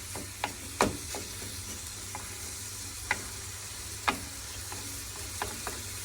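Sauce is poured over vegetables in a pan for a homemade gratin, giving a soft, even sizzle with sharp scattered clicks and taps of a utensil against the pan, fairly quiet and without speech.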